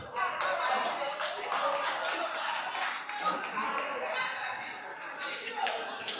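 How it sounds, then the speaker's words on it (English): A room of men at a community dinner and dance stands and claps together in a standing ovation, steady dense applause running throughout with a few louder smacks, voices murmuring underneath. "I want all the men to stand and give them a standing ovation"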